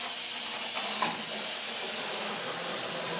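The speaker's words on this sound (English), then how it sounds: "spray it on the back of the lights" Steady aerosol hiss of rustproofing fluid sprayed onto the back of the lights on a Land Rover 130, continuous and fairly quiet at close range with no talking.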